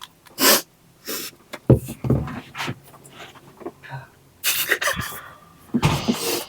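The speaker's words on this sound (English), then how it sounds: "I don't know why I went back for another sniff there" Sharp nasal sniffs and snorts from a person, coming in several close bursts with short pauses between, loud and near, with some breathing noises mixed in.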